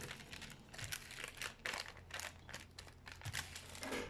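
A thick plastic bag crinkles and rustles close up in irregular bursts, crackling steadily as it is handled and pulled, with no talking.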